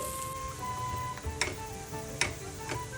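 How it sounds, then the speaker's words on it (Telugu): Chili powder and salt fry on a low flame with a soft, steady sizzle, broken by a few light clinks from stirring, at low volume with no voices. "వీటిని లో ఫ్లేమ్లో ఒక్క నిమిషం పాటు ఫ్రై చేసుకోవాలి"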